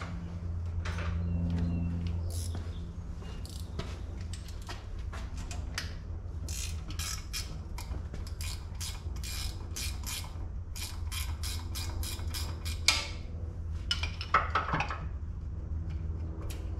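A wrench works a motor mount bolt on a Gen 3 Dodge Viper, giving a close series of quick metallic ratcheting clicks and clinks over a steady low hum. The clicks come in irregular bursts that grow busier toward the end.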